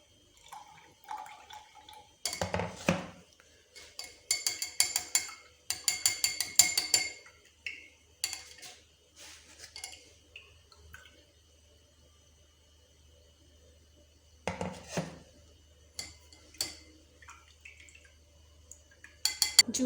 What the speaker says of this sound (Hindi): इसके बीच में अब मैं स्ट्रेनर की हेल्प से इसको स्ट्रेन कर लूँगी और ग्लासेस में ट्रांसफ़र कर लेंगे।